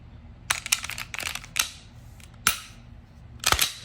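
A Glock pistol being cleared, with several sharp metallic clicks and snaps of the slide being racked and released, close up and separated by short quiet gaps.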